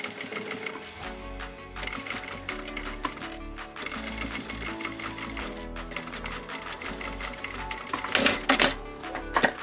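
Sewing machine stitching a sweatband onto the brim of a baseball hat, a steady close mechanical chatter in several runs with brief pauses between them.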